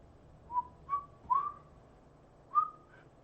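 Someone tries to whistle, producing four short, thin, wavering tones with gaps between them, quiet and close, with no talk over them.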